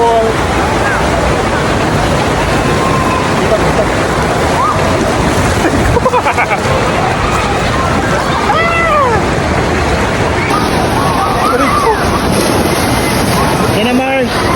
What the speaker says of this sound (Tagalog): Ito na yung artificial wave. Woo! Wave pool.